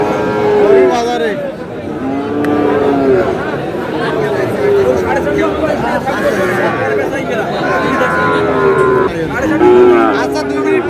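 Sahiwal bull calves at a busy cattle market moo repeatedly, loud and close, with several long bellowing calls over steady crowd chatter and people talking nearby.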